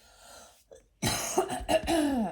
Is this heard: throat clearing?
yes